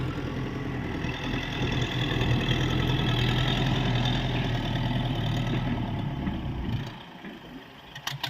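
Kubota M7040 tractor from 2014 idling at close range, a steady low diesel throb that drops away near the end, leaving faint clicks and no talk.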